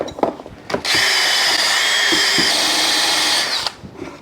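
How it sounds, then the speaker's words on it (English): A power drill with a wire brush whirs loudly and steadily for several seconds with a scrubbing, abrasive edge on a stuck Honda CX500 engine, framed by brief clicks and handling noises. "we got the drill and the brush, and let's see if we can get rid of some of this"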